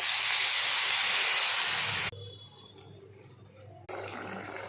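Water poured into hot oil with fried spices in a pan for a Bengali potato egg curry bursts into a loud, close hiss for about two seconds, cuts to near quiet, then flares up again.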